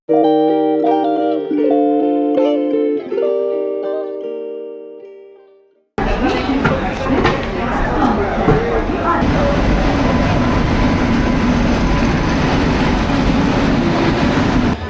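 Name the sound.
train running on the Kolkata to Rajasthan journey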